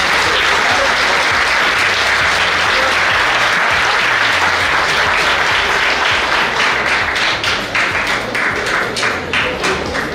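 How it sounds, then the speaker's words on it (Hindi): A large audience applauds loudly and steadily at an academy farewell ceremony, with dense continuous clapping that swells and holds throughout before thinning slightly near the end. "ये तालियां तुम्हारे लिए भी बजनी चाहिए"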